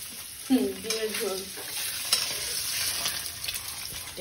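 A pan of potato and egg dum curry cooking on the stove gives a steady, moderate sizzle, with a brief faint voice near the start.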